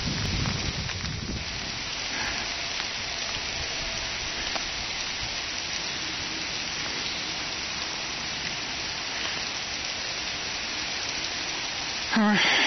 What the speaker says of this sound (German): Bei der Regen gibt einfach keine Ruhe.